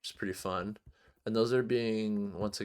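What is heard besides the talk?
No everyday noise stands out behind the speech.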